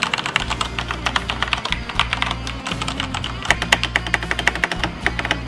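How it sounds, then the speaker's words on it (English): Rapid, steady typing on a Gigabyte Aivia Osmium mechanical keyboard, with dense overlapping key clicks and occasional heavier thocks, close and alone. "this is how the keyboard sounds like when I type"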